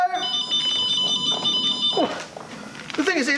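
A steady electronic ringing alarm from an electric scooter, sounding like a phone, continues for about two seconds and then stops while people talk loudly over it.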